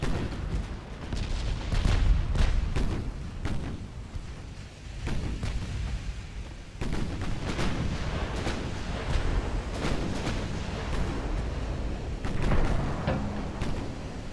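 Battleship gunfire in the naval game Ultimate Admiral: Dreadnoughts, pre-dreadnought British and German ships trading salvos: repeated heavy booms at irregular intervals over a rolling, rumbling sea-like wash, fairly loud and continuous.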